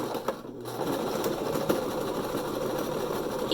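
A sewing machine backstitches to reinforce elastic, its motor whirring in one steady, continuous run with a fast needle rhythm, close and alone.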